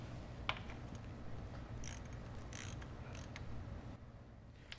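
A wrench tightens the oil drain plug on a Ducati 748 superbike, giving a few faint creaks and mechanical clicks over a steady low hum.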